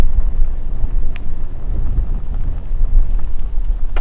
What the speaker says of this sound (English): And the rain gets stronger.